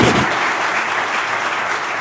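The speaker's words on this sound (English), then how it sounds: "could we please have a round of applause for the Finance Minister?" Applause at a leadership summit for the Finance Minister, a short burst of loud, dense clapping from a large audience, sustained for about two seconds without speech.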